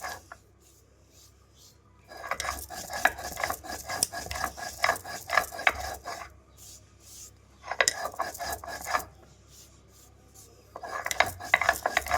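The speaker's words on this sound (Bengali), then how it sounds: "গরম মশলাটা ভেজে নিয়েছিলাম, সেটা এবার শিলে বেটে নেব।" Roasted garam masala ground on a stone slab with a grinding stone, rhythmic rasping scrapes in bursts separated by quiet pauses, close and moderately loud.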